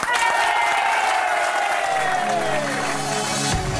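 A big, steady round of applause from a crowd at a Frisian-language talk show event, dense and loud throughout with tonal sounds over it and a low thump near the end.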